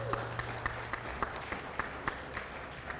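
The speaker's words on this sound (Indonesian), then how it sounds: "Boleh tepuk tangannya semua?" A conference audience applauds at an entrepreneurship summit in an indoor hall, steady continuous clapping with a few sharper individual claps standing out, moderately loud, with a brief voice at the start.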